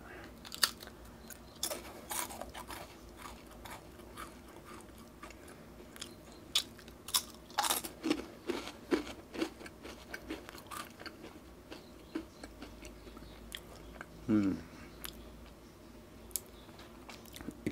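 Thin, spicy PRAN Potata biscuits are bitten and chewed close to the mic, giving repeated soft, crisp crunches at irregular intervals against a quiet background for several seconds.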